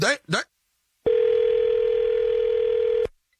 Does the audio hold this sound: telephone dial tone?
yes